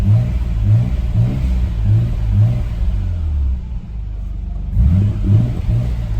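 A 1998 Nissan Skyline GT-R R33 engine revs in repeated short blips, sinking to a rumbling idle between them and then revving again, loud and close.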